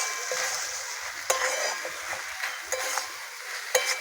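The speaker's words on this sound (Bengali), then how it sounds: "মশলাটাকে ভালো করে কষিয়ে নেবো" A spice masala with plenty of tomato and a pinch of sugar being sautéed in a pan for chicken ghugni, with a quiet sizzle broken by several sharp spatula scrapes and taps against the pan, close up and without speech.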